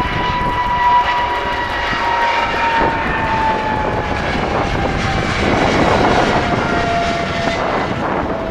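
An airliner roars down the runway and lifts off at Orlando International Airport, a loud steady engine rumble with a slowly falling whine, heard from nearby with no talk over it.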